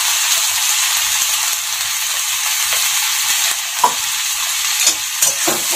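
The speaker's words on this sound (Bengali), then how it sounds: "আর টমেটোটা ভালো করে নেড়ে মানে যতক্ষণ পর্যন্ত গলে না যায় সেভাবে নাড়তে হবে।" Tomatoes with salt and turmeric fry in a pan under a loud, continuous sizzle, with occasional soft scrapes and knocks of a spoon stirring them through.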